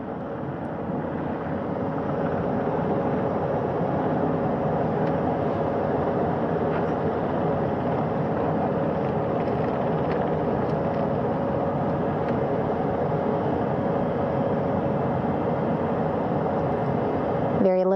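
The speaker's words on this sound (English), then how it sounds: "As that third helicopter touches down." A helicopter touching down on a ship's flight deck gives a loud, steady rumbling roar that holds evenly throughout, with the engine and rotor noise blended into a broad continuous drone.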